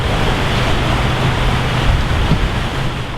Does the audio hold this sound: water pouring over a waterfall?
yes